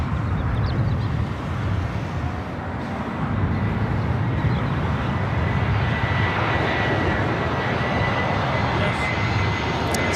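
A Qatar Airways Airbus A350-1000 arriving at LAX produces a sustained, loud jet engine roar with a dense low rumble that stays steady throughout.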